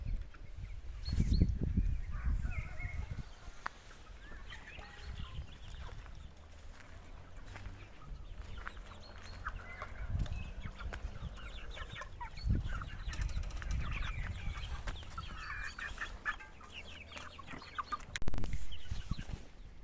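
Two-month-old chickens clucking around a backyard coop, with scattered soft clucks and faint bird calls over a low rumbling, rustling background throughout.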